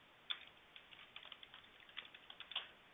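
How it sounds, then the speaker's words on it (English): Password being typed on a computer keyboard: a quiet run of irregular key clicks, close and faint, with no voices. "Looks like I have a problem with typing passwords in today."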